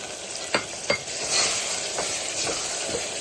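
Goat head meat is stirred with tomatoes frying in oil, a steady close sizzle broken by several scraping strokes and light clinks of a spoon against the pan, with no talking.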